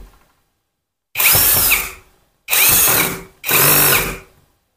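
An APR AP85 Pro brushless power drill in screw mode whirs loudly up close in three separate bursts, each about a second long, with short silent gaps as the trigger is released.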